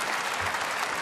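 Audience applause at the WWDC 2015 keynote, a dense, even burst of many hands clapping in a large hall, brief and continuous.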